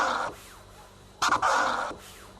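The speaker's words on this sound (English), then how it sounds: "And for the crab scratch, we're only going to be using the forward part." A DJ works forward-only crab scratches with a turntable crossfader, giving broad rushing bursts that are chopped into quick stutters partway through, loud and close with nobody talking.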